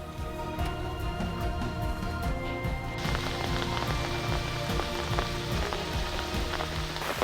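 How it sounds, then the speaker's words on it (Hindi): Sudden heavy rain pours steadily at Devbagh beach, a dense, loud, continuous hiss of drops on surfaces that grows even fuller partway through, with no talk. "अभी देखो सीन ये है कि अचानक बहुत ज्यादा तेज बारिश स्टार्ट हो गई है।"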